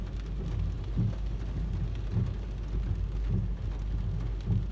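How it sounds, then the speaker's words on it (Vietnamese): Heavy all-day rain pours down in a steady, dense hiss with low rumbling underneath, continuous and close. "giờ mưa cả ngày luôn các bạn, mưa kiểu này"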